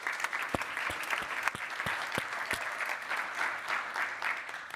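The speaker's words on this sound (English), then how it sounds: "So give a round of applause for Giusy" Audience applause fills a panel event on humans and AI, a steady, moderately distant roll of many clapping hands, with a few louder individual claps standing out, no talking over it.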